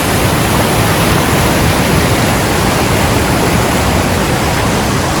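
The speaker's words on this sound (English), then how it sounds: "waterfall." A loud, constant roar of rushing water at Moroka Falls in Victoria's High Country, dense and unbroken, heard close to the waterfall.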